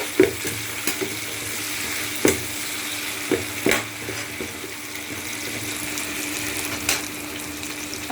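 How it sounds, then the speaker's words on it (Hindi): Tomatoes and green chillies stirred in a frying pan give a close, steady sizzle broken by sharp clicks and scrapes of a utensil against the pan at irregular intervals. "अब मैं डाल रही हूँ इसमें टमाटर, अब डाल दूँगी हरी मिर्च और इसको अच्छे से मिक्स कर लूँगी"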